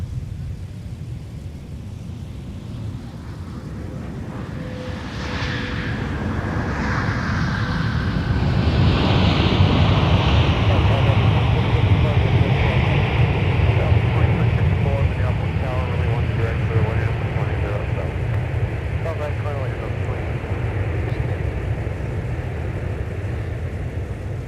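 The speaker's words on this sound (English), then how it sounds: "Today it's an 8-hour and 33-minute transatlantic flight coming in from Amsterdam" A heavy transatlantic airliner arriving from Amsterdam at MSP airport roars steadily in the distance, its broad engine rumble rising and holding loud through the middle, with wind buffeting and faint voices underneath.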